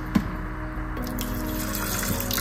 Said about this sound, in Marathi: आता आपण पाणी टाकून घेऊ